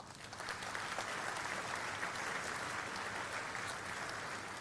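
A banquet crowd gives a long, steady round of applause for the Shriners, dense clapping from many hands sustained evenly throughout at a moderate distance.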